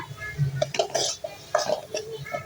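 Spice powder stirred into oil in a pan, with scattered scraping and clinking strokes of a utensil on metal, close and irregular, a few soft bursts between quieter moments.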